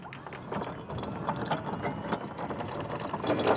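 An anchor chain runs out from a boat anchoring in 7.5 metres of water, giving a steady rattling, clicking metallic ratchet that continues without a break at moderate loudness and grows slightly louder toward the end.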